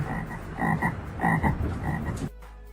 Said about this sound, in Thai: กบจะส่งเสียงเรียกร้องหากันเพื่อที่จะผสมพันธุ์กัน